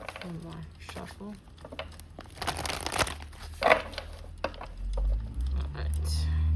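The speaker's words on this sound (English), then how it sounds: "One more shuffle." A deck of tarot cards being shuffled, with crisp riffling and crinkling rustles in uneven bursts, close to the microphone and mixed with handling noises.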